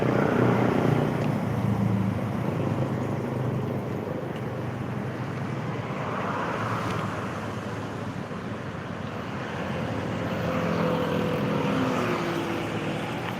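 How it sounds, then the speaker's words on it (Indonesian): A motorcycle rides through the city streets of Makassar, its steady engine drone blending with a continuous roar of wind and traffic noise throughout, with no talking. "Saya coba keliling Makassar ya dengan menggunakan motor."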